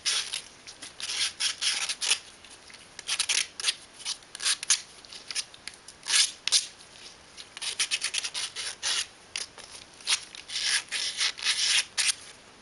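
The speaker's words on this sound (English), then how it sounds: "Sand off any tabs." Small plastic ring parts from a gear box toy kit are sanded to remove leftover tabs, with close, quick rasping strokes in irregular rhythmic bursts separated by short pauses.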